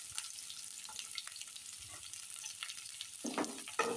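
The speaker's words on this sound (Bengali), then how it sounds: "রসুনগুলো একটু লাল লাল করে ভাজা হবে।" Garlic and chopped onion fry with green chilies in a pan, a soft continuous sizzle with light stirring scrapes, growing a little louder with clattering stirs toward the end.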